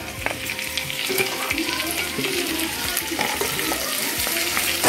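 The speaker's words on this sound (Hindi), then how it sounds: "अब मैं एक कैप्सिकम जो कि बड़े साइजेस में कटा हुआ है उसको ऐड कर रही हूँ" Large-cut capsicum tossed into baby corn chili frying in a pan, giving a loud, dense sizzle with continuous stirring and scraping throughout, close up and without talk.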